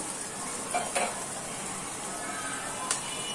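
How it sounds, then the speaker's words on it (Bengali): Oil sizzles in a pan as it heats, a soft steady hiss with a few faint metallic clinks near the start and end, and no one speaking. "তেল গরম হয়ে গেছে"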